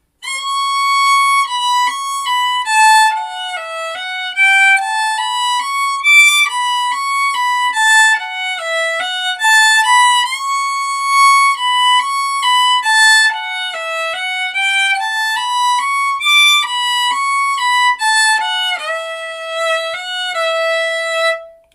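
A solo violin plays the harmony line of a fiddle tune as a flowing, continuous melody of clear bowed notes. It is close and fairly loud, with no talking.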